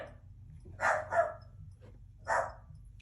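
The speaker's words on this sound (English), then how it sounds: "Puppy dogs barking at somebody." Puppies bark at someone indoors, giving three short yapping bursts that stand out clearly against a quiet room with a low background hum.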